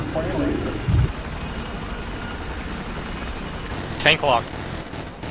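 Gunfire and tank combat in the video game Battlefield 4, with a heavy low thump early on and a sharp burst of shots later over a rumbling battle background, a player talking over it.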